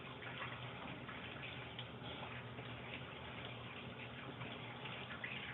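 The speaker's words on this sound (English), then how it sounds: "Wash my hands." A water tap runs steadily while hands are washed beneath it, a constant close hiss of flowing water with no talk.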